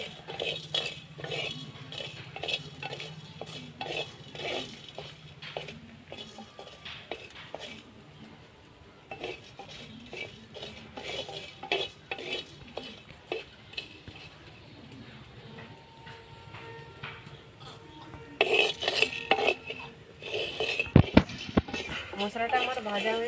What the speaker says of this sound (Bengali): ভাজার জন্য এই মশলাটা ভেজে নেব। সব কিছু নেড়ে চেড়ে লাল করে ভাজবো,